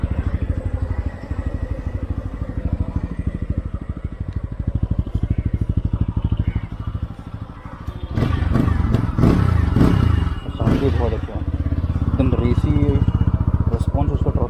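A TVS Apache RTR 200 4V BS6 motorcycle engine idles with a steady rapid thumping pulse, close by, then grows louder and rougher with some clatter midway while someone talks over it.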